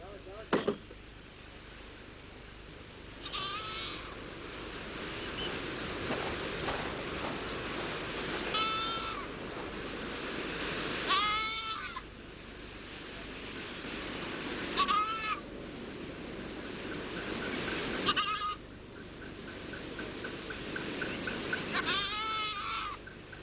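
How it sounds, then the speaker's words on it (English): A goat used as lion bait in Gir National Park, India bleats several times at intervals, fairly faint over a steady outdoor hiss, each call short and wavering. "decides on using a goat as bait"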